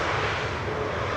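An airliner at Schiphol airport gives off a steady, moderately loud jet engine roar with no voices, heard alone for about a second.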